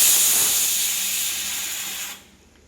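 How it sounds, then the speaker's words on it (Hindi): A pressure cooker boiling green peas releases a loud, close, continuous steam hiss that slowly weakens and then cuts off near the end, leaving quiet. "तो अभी हमने इनको कुकर के अंदर रख दिया है बॉईल होने के लिए।"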